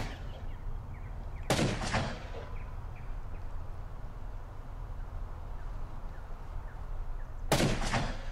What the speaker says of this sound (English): the volleys of gunfire that are going back and forth between Tobias and his gang and Dirt and his men